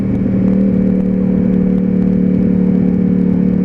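A Yamaha R1 motorcycle on a test ride gives a loud, steady engine drone, a close continuous mechanical roar with a whirring undertone throughout.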